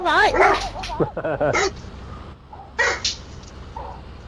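A dog yelps and barks in short bursts at someone arriving at the door, with whimpering yips in between, heard close by over a person talking.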